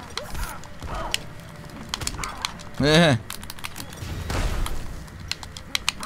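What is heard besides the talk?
fireworks going off in a video game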